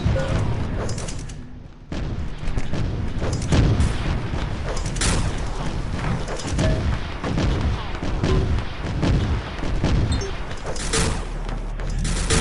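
Rocket launcher blasts in an OpenArena Clan Arena match crack out loud and close, one after another, in an irregular barrage of booms and thuds with a few short pauses.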